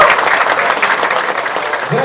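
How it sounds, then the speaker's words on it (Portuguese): Audience applause for a man at a sales event in Salvador, Bahia: loud, dense clapping from a crowd that fills the room, steady throughout with a murmur of voices beneath. "Salva de palmas para esse senhor"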